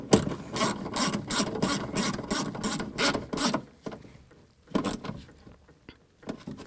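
A hand ratchet snugs down bolts on the rear power window regulator of a 2004-2008 Nissan Maxima. Quick, evenly spaced clicking bursts run for about three seconds, then a few scattered clicks follow. The sound is close and clear.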